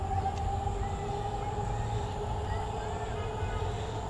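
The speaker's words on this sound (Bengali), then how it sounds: "ওই মেট্রো ট্রেন যাচ্ছে একদম স্টেশনের পাশেই" A metro train runs past right beside a station in Dhaka, heard as a fairly faint, steady rail hum and rumble from some distance.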